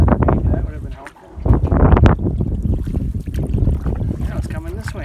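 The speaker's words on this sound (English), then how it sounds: "What a windy day." Gusty wind buffets the microphone while a canoe comes ashore on open water, a rough rushing roar that surges and dips. A person talks throughout.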